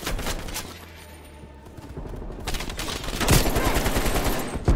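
Gunfire from Call of Duty Black Ops Cold War, with rapid automatic bursts rattling continuously and building louder toward the end, a dense barrage without any talk.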